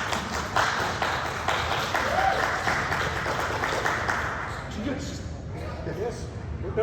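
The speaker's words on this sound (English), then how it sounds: "Let's give the boys a big round of applause." Applause and cheering from an audience at a UFO Days presentation in Elmwood, a dense continuous wash of clapping that stays steady for several seconds before thinning slightly near the end.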